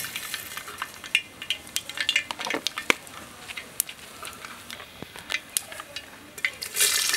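Mustard seeds crackle and sizzle in hot oil while making a Kerala-style banana stem pickle, with sharp scattered pops over a soft frying hiss and no talking.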